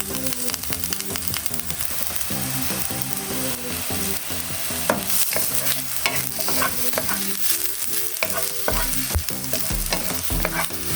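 Green beans stir-fry in oil in a pan alongside tofu and vegetables, a loud, close, continuous sizzle with repeated scraping and tossing strokes and steady popping, over a tonal melodic background and without speech.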